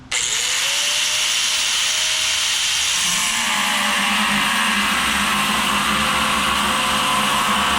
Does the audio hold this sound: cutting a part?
yes